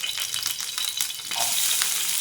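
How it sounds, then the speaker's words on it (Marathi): Steady crackling sizzle of onion frying in hot oil in a pan, close and continuous, with no voices. "तेल गरम झालं की इथे मी कांदा टाकलेला आहे"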